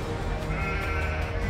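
Sheep bleat continuously during a sheep trailing event, with a dense chorus of many overlapping calls filling the air at close range.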